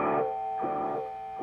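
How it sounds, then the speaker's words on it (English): Electric guitar through a distortion pedal with delay, a sustained buzzy distorted tone with repeating echoes that swell and fade in a slow pulsing rhythm, played alone with no talking. "if I kick the distortion on"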